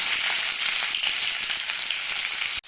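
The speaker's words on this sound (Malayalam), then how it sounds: "ഇപ്പൊ വെളിച്ചെണ്ണ ചൂടായതിനു ശേഷം നമുക്കിതിലേക്ക് ഒരു ഇരുപത് ഇരുപത്തിരണ്ട് ചെറിയ ഉള്ളിയാണ് എടുത്തിട്ടുള്ളത്" Cut small shallots fry in hot coconut oil for a Kerala fish curry, producing a loud, steady crackling sizzle throughout, close up and free of any talk.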